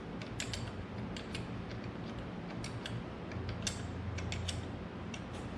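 A wrench snugs down the magneto bolts on a John Deere B tractor engine, a steady run of close ratcheting clicks and small metallic creaks with no talking.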